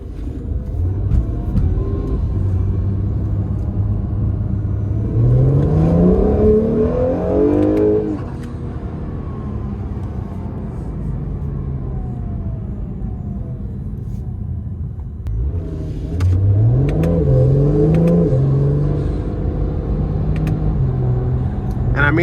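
A 2019 Acura NSX Sport Hybrid engine rises in pitch twice as it accelerates hard, a loud, smooth surge with a steady rumble between the pulls.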